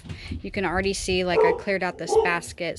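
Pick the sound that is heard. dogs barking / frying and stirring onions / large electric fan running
dogs barking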